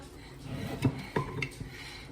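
A whisk stirring sourdough starter knocks against the edge of a jar, making two or three light clinks spaced about half a second apart over soft mixing sounds and faint talk.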